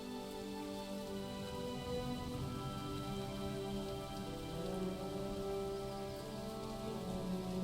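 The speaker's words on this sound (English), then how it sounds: "Seems like every time I'm doing something at retail, it's raining." Steady, dense rain falls in World of Warcraft: The War Within, a constant hiss of drops on surfaces with a soft, sustained musical ambience underneath and no talking.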